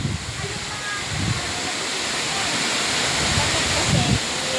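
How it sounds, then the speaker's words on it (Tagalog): Waterfall at Kiray Falls in barangay Siwasiw, a steady broadband rush of falling water filling the whole clip at close range, with faint voices occasionally audible beneath it. "yung waterfalls ng Kiray Falls dito sa barangay Siwasiw S."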